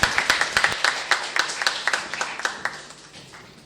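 An audience at a panel discussion claps in a lively round of applause that starts close and crisp and fades steadily over a few seconds.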